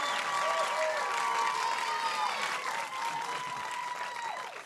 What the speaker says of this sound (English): Let's do a round of applause for Mayor.